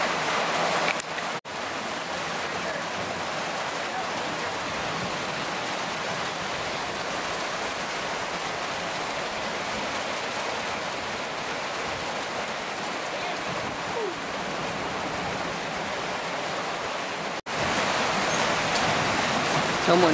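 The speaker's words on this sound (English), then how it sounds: "Raindrops are huge." Heavy rain with huge drops pours down at a riverside campsite, a steady loud hiss of water on surfaces that runs continuously, with a brief dip near the start and again late.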